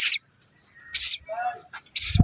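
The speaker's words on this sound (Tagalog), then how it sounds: "May ibon dito mga kawild." A bird gives three sharp, high chirps spaced evenly apart, close and clear, with a softer warbling call between them.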